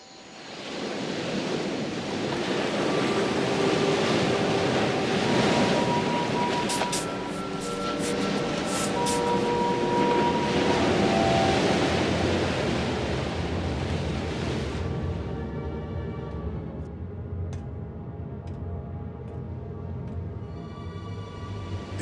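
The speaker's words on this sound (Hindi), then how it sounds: "लहरें काफी तेज हैं।" Strong ocean waves, a loud broad roar of surf with wind rushing over it, steady for most of the stretch and then easing to a softer wash near the end.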